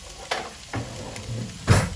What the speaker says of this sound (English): Check up on the onion. Over there, frying, smelling nice, absolute goodness.